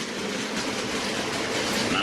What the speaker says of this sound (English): Now I think the train is not derailing